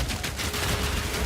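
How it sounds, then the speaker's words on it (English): Stun grenades fired from a crossbow in Path of Exile 2 burst in a dense, continuous barrage of loud blasts and crackling impacts, filling the whole moment with rapid gunfire-like popping and no talk. "Surprise! Stun grenades."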